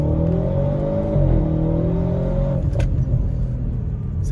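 A small car's engine revs up loudly nearby at about a quarter pedal, its pitch climbing and holding before settling back to a rumbling idle.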